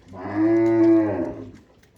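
A cow nursing her suckling calf lets out one long, close moo that swells and fades over about a second and a half, with nothing else around it.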